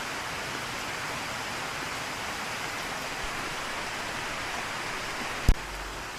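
Steady rain hisses evenly throughout, a constant moderate wash, with a single sharp knock near the end.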